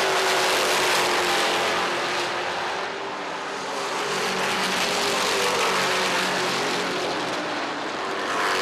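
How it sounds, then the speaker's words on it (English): Race cars roar past at Thompson Speedway during an American Canadian Tour oval race, a dense, loud, continuous engine drone that swells and eases slightly, with no voices. "Final car on the lead lap is now the number 70 of Jason Larrabee Jr."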